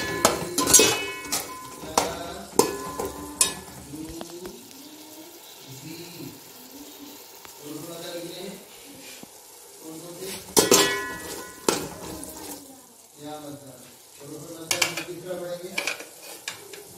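Peas and rice are stirred and fried in a pan in a home kitchen, with scraping utensil clinks, soft sizzling and a few running-tap splashes, close and intermittent, while someone speaks quietly at times.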